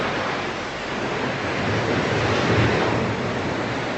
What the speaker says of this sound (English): Waves like white horses.